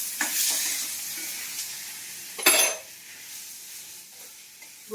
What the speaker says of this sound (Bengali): ঘিয়ের মধ্যে আমি গোবিন্দভোগের চালটা দিয়ে দিলাম, দিয়ে আমি ভালো করে এটা নেড়ে নেব।